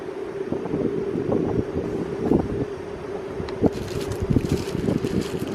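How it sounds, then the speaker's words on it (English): Wind gusting outdoors at a canteen-cup cooking setup, heard as a steady, blustery rumble with buffeting against the microphone that grows stronger near the end. "The wind's picking up again."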